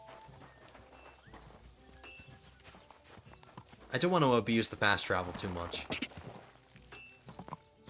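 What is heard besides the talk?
horse hooves riding, from video game Kingdom Come: Deliverance 2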